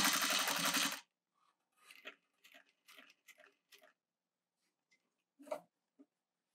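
A sewing machine stitches a wool felt coffee sleeve in a short, loud burst lasting about a second. Sparse, quiet clicks and ticks follow as the needle is worked slowly by hand.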